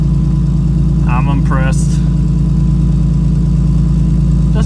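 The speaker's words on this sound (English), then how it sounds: "This thing hasn't been running since last November, and it fired right up." A car engine idles after a cold start following months of sitting unused, giving a steady low hum that runs throughout, while someone speaks briefly over it partway through.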